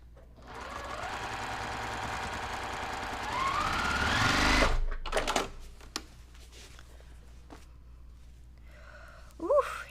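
A sewing machine runs steadily for about four and a half seconds stitching a quilt seam, then stops, followed by a few clicks and handling noises and a short exhalation near the end.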